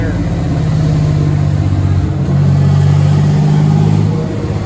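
A turbocharged 4.3 V6 in a budget drift truck revs hard through a third-gear dyno pull, a loud, sustained droning engine note that climbs and holds steady, then dips briefly before dropping away near the end.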